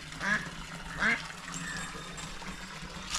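A duck quacks a few times, nasal calls standing out at moderate distance over a steady outdoor background with no clear speech.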